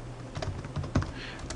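Quiet, close typing on a computer keyboard while entering Java code, a handful of soft, irregular key taps with one sharper press near the end.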